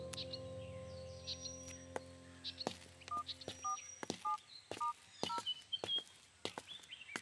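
A telephone is dialed, a series of short keypad tones beeping in an irregular rhythm, faint and nearby, amid light background clicks and a few bird chirps.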